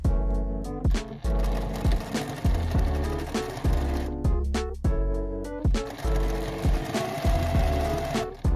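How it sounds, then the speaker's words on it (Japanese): A sewing machine stitches along marked square lines on pocket fabric pinned right sides together, a tote bag made from scrap fabric, running in repeated short bursts with clacking pauses, close and fairly loud. "四角の印の線をミシンで縫います。"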